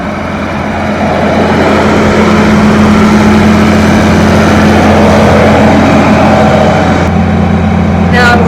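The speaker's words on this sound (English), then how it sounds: "I've just spent the last 30 minutes starting the tractor." A tractor engine idles steadily and loudly up close during hay baling, a low rumbling drone with constant vibration throughout.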